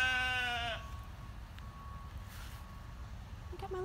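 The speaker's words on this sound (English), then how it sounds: "I have not put out my sheep yet, and they hear me. They're screaming at me." A sheep on a small farm lets out one loud, close, wavering bleat at the start, then a quiet outdoor hush with a faint distant call near the end.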